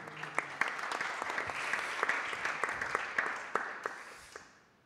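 An audience at a community round-table gathering applauds: a warm, steady burst of many hands clapping at moderate distance, tapering and fading out over the last second.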